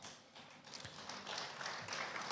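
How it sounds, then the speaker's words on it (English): A conference audience claps in a dense, rising patter of applause that swells over a couple of seconds, moderately distant and filling the hall. "And with that continuing round of applause"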